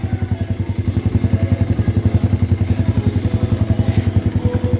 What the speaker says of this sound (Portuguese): você acelera, segura o acelerador, e vai devagarzinho